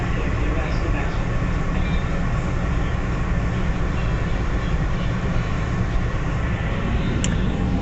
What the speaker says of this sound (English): Oh, well, that train departed.